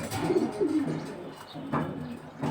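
Cooing from a racer pigeon, a 2002-banded bird, comes in soft rolling phrases near at hand, swelling and fading in short bursts with no one talking over it.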